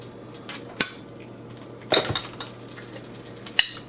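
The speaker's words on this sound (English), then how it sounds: "then I'm going to cover it with the lid" A metal lid clinks and clatters onto a cooking pan in a few short, bright knocks, sharpest near the middle, over a quiet kitchen hum with no talking.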